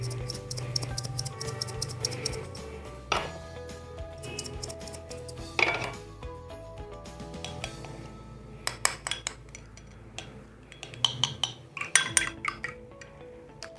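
An egg whisked with milk in a bowl, the utensil clinking and ticking against the sides in quick irregular bursts over a low background hum, close and fairly quiet, with no talking.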